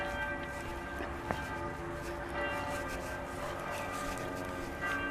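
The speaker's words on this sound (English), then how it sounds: "Another bell is ringing." A church bell rings in the Pergine area of Trentino at seven o'clock, a faint, distant tolling with a lingering hum against quiet outdoor ambience.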